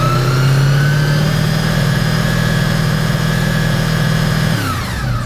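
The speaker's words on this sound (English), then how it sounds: "We're going to rev it up to 500." A motorcycle engine runs at a steady high idle, held at raised revs during a charging-system fault check, then drops in pitch as it settles near the end; loud and close, with no talking.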